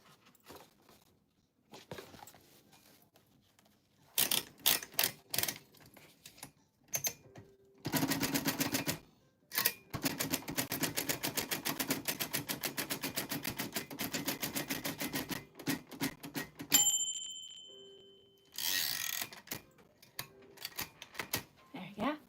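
A vintage typewriter clatters in bursts of rapid keystrokes, with sharp isolated strikes, a long dense run of typing, and a bell-like ding and carriage return near the end, close and clear in a quiet room.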